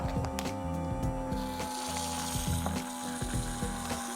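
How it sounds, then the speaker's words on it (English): A vacuum pump hums steadily while sealing a meal prep container of broccoli, a close, continuous mechanical drone with rhythmic pulsing and faint clicks. "We just vacuum packed some broccoli."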